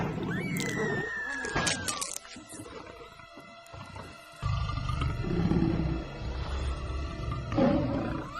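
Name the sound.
lion roaring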